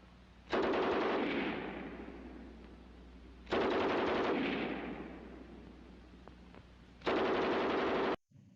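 A German MG34 machine gun on a bipod fires in a video game: three loud, sustained bursts of rapid gunfire, each trailing off into a fading echo before the next.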